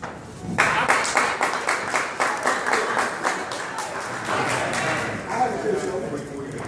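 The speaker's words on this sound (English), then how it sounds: "Them is them old ass people clapping." A crowd of older audience members claps steadily, the applause swelling quickly and holding as a dense patter of many hands, with a voice talking faintly underneath.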